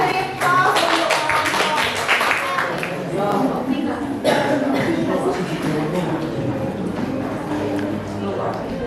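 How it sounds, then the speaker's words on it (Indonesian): Classroom audience applause during a peer teaching observation lesson, a dense spread of many hands clapping that runs steadily for several seconds, with voices talking over it. "Kita beri aplaus"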